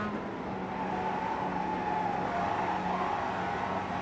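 Mazda MX-5 race car lapping the Mid-Ohio circuit in a competition, its engine a steady continuous drone heard from on board, holding a fairly even pitch with slight rises and no voices over it.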